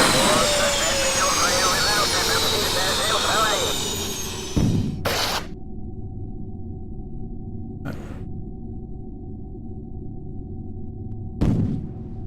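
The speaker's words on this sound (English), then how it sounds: "shut down all engines" Space Shuttle engines roar steadily in a flight simulator game, then cut off around midway, leaving a low hum broken by a few sharp clicks.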